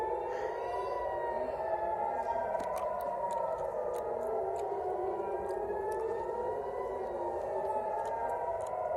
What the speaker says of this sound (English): Air raid sirens are going on and on.